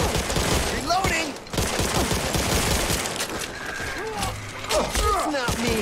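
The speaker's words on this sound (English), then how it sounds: "Reloading!" Back 4 Blood zombie shooter: constant gunfire and mechanical reload clacks under overlapping voices, with dense rapid shots and metallic clicks throughout.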